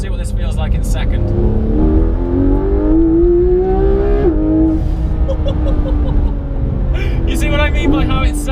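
A Porsche 991 GT3 RS on its stock exhaust accelerates hard in second gear through the hills of Tuscany, engine wail climbing in pitch with a brief shift blip, loud from inside the cabin while people talk over it.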